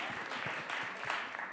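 A school worship service audience claps briefly to welcome the singers, a faint scattered patter of hands heard at a distance.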